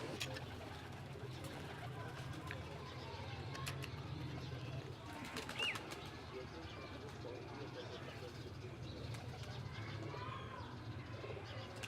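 Pigeons coo softly and steadily in the background, with a low hum and occasional brief clicks, while someone talks intermittently nearby.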